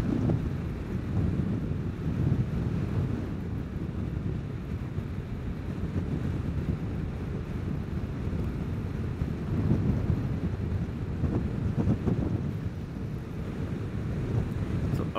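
Steady wind buffeting the microphone while riding a Vespa scooter into roughly a 10 mph headwind on an overcast day, a continuous low rushing roar with gusty swells throughout, no voices.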